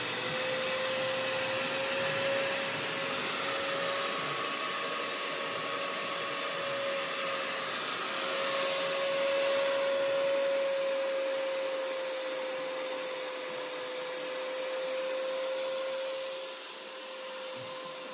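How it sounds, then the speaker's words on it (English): An iQ426HEPA dust extractor vacuums drywall dust, giving a loud, steady whine with a constant tone and airy rush, close and continuous throughout, easing slightly near the end. "let's turn the machine on and suck up some dust"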